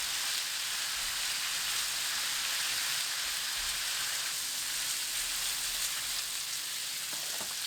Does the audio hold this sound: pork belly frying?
yes